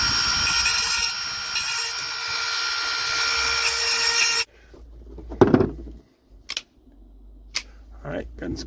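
A steady, loud grinding or sanding hum runs for several seconds as the plastic edges of a 10mm Beretta magazine are smoothed, then stops abruptly, leaving a few faint clicks and handling knocks.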